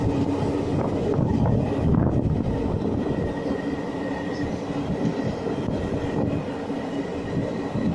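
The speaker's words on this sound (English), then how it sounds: "Train is parked." A Hassan Intercity train sits parked at a station on the electrified Bengaluru–Tumakuru line, giving off a steady, loud rumbling hum with a constant low drone and no break for the whole stretch.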